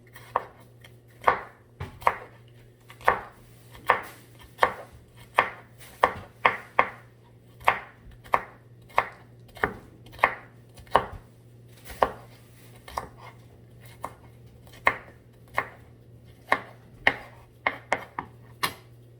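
A kitchen knife chops ingredients on a cutting board, sharp individual knocks in an uneven but steady rhythm, close and clear over a low background hum.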